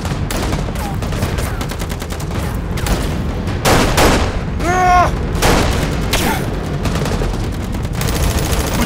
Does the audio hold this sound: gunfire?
yes